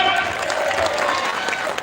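A crowd applauds officials and private sector guests at an international silk festival in Khon Kaen, steady continuous clapping from many hands, moderately loud and spread out.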